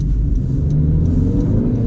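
A 2020 Honda CR-V compact SUV with a CVT accelerates hard, heard from inside as a steady low engine drone and rumble with no talking.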